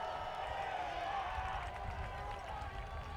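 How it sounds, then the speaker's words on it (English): A college football stadium crowd at the opening-day game growing loud on a third down, a steady far-off roar of many voices with some scattered clapping. "Crowd gets noisy again on 3rd and 6"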